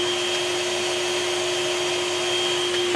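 Steady loud whine of a 2015 Numatic Henry HVR200 vacuum cleaner motor running continuously, with a strong even hum and airy rush throughout and no talking.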